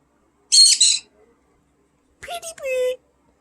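Pet parrot calling loudly indoors: a harsh high squawk, then after a pause a burst of shorter calls ending in a drawn-out loud screech, close by and clear against quiet.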